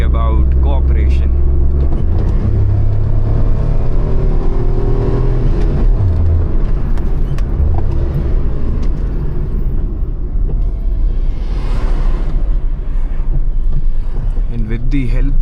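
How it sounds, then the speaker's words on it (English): Small hatchback's engine revving and rumbling loudly as the driver rev-matches and downshifts on a Himalayan mountain road, a continuous close drone with rising and falling pitch beneath talk. "with the help of rev matching and downshifting, we were able to control our car"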